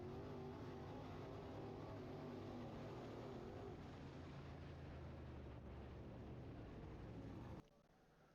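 A race car on its last lap heading toward the checkered flag, heard as a played recording: a steady, loud engine drone with wind rush that holds evenly, then drops abruptly near the end.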